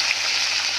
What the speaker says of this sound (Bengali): তেলাপিয়া মাছটা এই যে এখানে ভাজা হচ্ছে